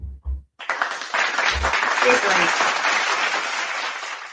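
A crowd at a casual cocktail hangout breaks into a round of applause. The clapping is steady and full and holds for several seconds. It comes just after a few short spoken words from the host.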